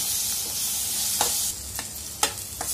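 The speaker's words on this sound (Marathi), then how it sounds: "आता ह्याच्यामध्येच आपल्याला हे वाटण टाकायचं आहे। छान परतून घ्यायचं आहे आपल्याला तेल सुटेपर्यंत।" Ground masala paste sautéing in hot oil in a pan for egg curry, a steady close sizzle with a few sharper scraping stir strokes of a spoon, no talking.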